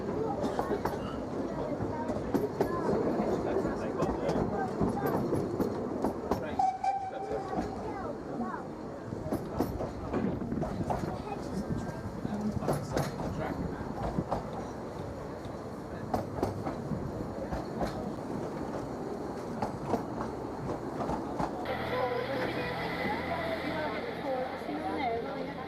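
A Vale of Rheidol Railway narrow-gauge train rolls along with a continuous rumble and rhythmic clatter heard from a carriage, and a voice speaks over it at times.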